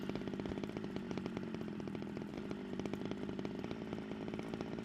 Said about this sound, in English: If you push R, you can start and stop your chainsaw.